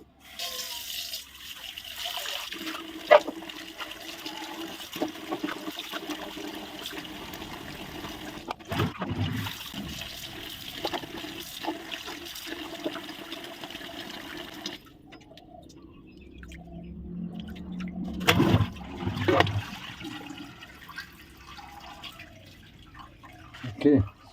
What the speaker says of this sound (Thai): อันดับต่อไป จะมาล้างผักของเขาเนาะ